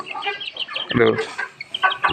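Three young rooster chicks cluck and chirp close by in quick, uneven bursts, with a louder squawk in the middle.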